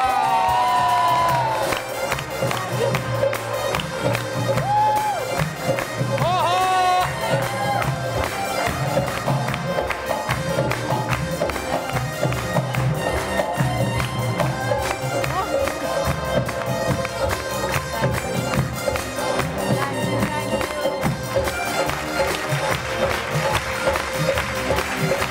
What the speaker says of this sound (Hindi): आपकी तालियों की गूंज में तशरीफ ला रही है फिल्म स्टार